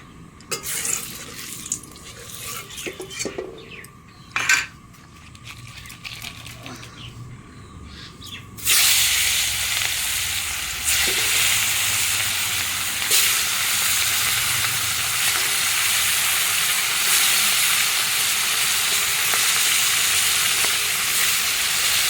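Tomatoes frying in hot oil give a steady, loud sizzle that starts abruptly partway through and continues unbroken to the end, after a quieter stretch of faint kitchen clatter.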